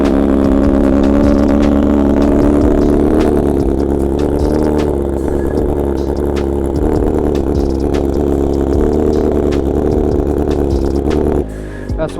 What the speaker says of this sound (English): let's get a cold start on the S1000